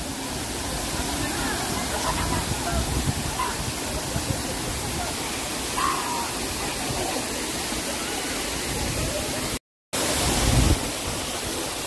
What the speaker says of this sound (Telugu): చాలా సేఫ్ వాటర్ ఫాల్ ఇది